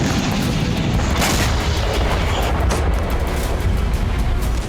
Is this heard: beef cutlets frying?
no